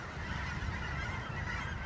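A dense chorus of honking geese, many birds calling at once in a continuous, overlapping clamor, fairly distant and steady.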